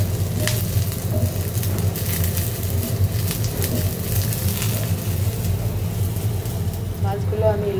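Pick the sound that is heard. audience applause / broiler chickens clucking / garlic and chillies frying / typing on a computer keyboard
garlic and chillies frying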